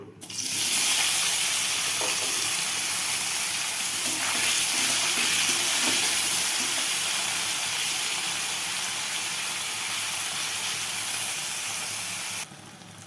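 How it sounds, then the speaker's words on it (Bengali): Paneer pieces fry in hot mustard oil in a wok, bursting into a loud, steady, close sizzling hiss that starts abruptly and holds until it cuts down sharply near the end. "তেল গরম হয়ে গেছে, পনিরগুলো দিয়ে দেব।"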